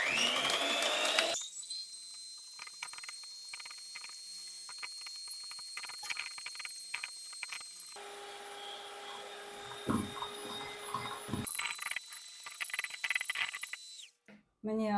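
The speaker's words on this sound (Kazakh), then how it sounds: "Міне ақуызды миксерлеп алдық." An electric mixer whips egg whites with sugar at maximum speed, a close, high whirring whine that shifts in pitch as the beaters move, with short breaks.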